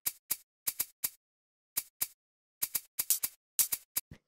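Shaker sample in an eclectic house groove, heard alone as a string of crisp, bright, short shakes in loose clusters with brief gaps, close and fairly quiet.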